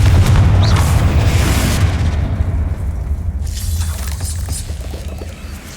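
Bombarda and Confringo spell blasts in the Hogwarts Legacy video game during a fight with spiders, a heavy booming explosion with deep rumble and crackling debris that slowly fades over several seconds.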